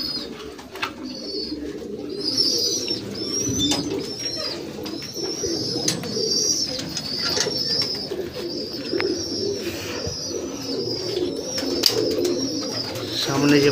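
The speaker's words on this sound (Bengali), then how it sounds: "সামনে যে ফুলসিরা পায়রাটা আপনারা দেখতে পাচ্ছেন জিরা পায়রার পাশে, এটা আমাদের ভোলাদার থেকেই নেওয়া।" Madrasi pigeons of the Pulsar and Arshad lines in a loft, a continuous chorus of soft low cooing from several birds nearby, with occasional wing flutters and faint background noise.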